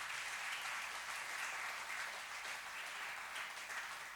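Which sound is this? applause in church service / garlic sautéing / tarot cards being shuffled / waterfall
applause in church service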